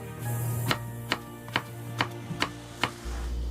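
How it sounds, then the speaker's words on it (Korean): A kitchen knife slices through eggplant on a cutting board in about eight evenly spaced, crisp chops, close and clear over a low steady background hum. "좀 두께가 두꺼운 가지는 절반 이래 자르셔도 됩니다."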